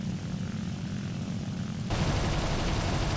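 Propeller airplanes droning in a historical air-combat video game, a dense steady engine roar that jumps abruptly louder and brighter partway through, as if a plane swept in close.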